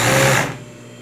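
An overlock sewing machine stitches a long flared skirt with a loud, close, steady whirring hum that cuts off about halfway through, leaving a faint residual hum.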